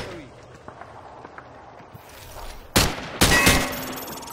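Gunfire in Call of Duty: Modern Warfare 2 punching through light cover, arriving as two loud, broad bursts late on after a stretch of quiet ambient rumble and faint footsteps.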